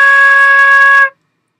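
A flute holds a single steady C for about a second, clear and loud, then stops abruptly into silence.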